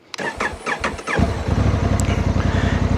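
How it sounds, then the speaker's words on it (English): A 2025 Honda Africa Twin Adventure Sports ES DCT with an 1100 parallel-twin engine cranks with a short starter whine, catches, and settles into a loud, close, deep pulsing idle rumble from the exhaust. "it has that deep rumble from the exhaust, and sounds pretty good"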